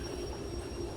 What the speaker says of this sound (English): we're going to have to couple these two together to make a long train for another mission